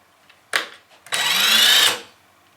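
A Ryobi R18IW3-0 cordless impact wrench running unloaded in first gear: a short blip, then a steady high whirring run of under a second that stops abruptly, close and alone.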